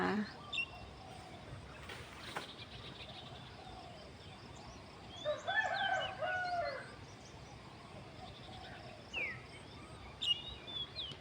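Scattered bird calls and chirps ring out in the open air, a clearer burst midway and a few more later, over faint ambient outdoor noise.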